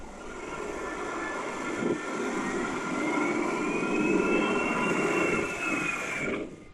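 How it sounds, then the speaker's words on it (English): An airliner on approach to Madeira airport in bad weather, a steady, loud jet engine roar with a rising whine that swells toward the middle and then cuts off abruptly. "This plane failed in the first attempt at the Madeira airport."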